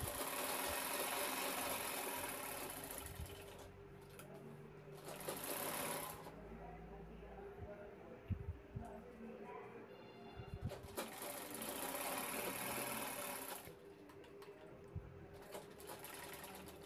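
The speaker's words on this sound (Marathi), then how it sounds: "त्यानंतर बॅग उलटवून दोन्ही बाजूची शिलाई करून घेणार आहे।" A sewing machine stitches both sides of a handbag, its motor whirring in intermittent runs separated by short pauses, steady and close at moderate loudness.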